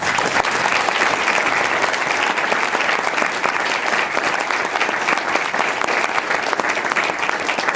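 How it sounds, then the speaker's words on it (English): Loud, dense applause from an audience at the Crystal Apple Awards ceremony, sustained evenly from start to finish with no talk over it. "Can we give them another round of applause?"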